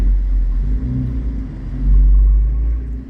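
Deep exhaust rumble from a BMW M4 convertible running with the top down, loud and close, swelling briefly as the engine revs, then easing back, with no talking.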